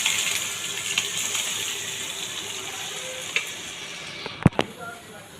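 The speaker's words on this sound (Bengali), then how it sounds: "এবার দিয়ে দেবো সেদ্ধ করে রাখা আলু আর মটর।" Boiled potatoes and peas are stirred into chicken mince frying in a pan, giving a steady soft sizzle with light scraping stirs and a couple of sharp clanks near the end.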